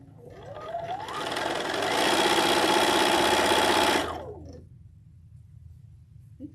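A sewing machine stitching fabric, its motor whirring up to a steady fast hum for a few seconds, then winding down and stopping, close and loud.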